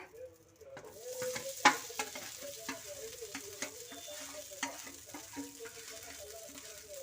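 Paneer tikka with cubed onions sizzles on a tawa, a steady frying hiss under repeated light spatula taps and stirring scrapes at close range, without talking.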